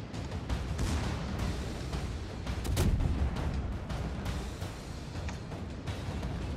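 An artillery shot fires in a video game replay, a low, muffled boom with rumbling battlefield ambience around it, fairly distant and steady rather than sharp.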